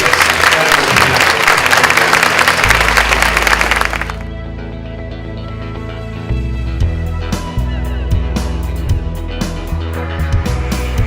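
Audience of a few hundred at a family resiliency conference bursts into loud, sustained applause for a panel, the dense clapping filling the first four seconds before music takes over.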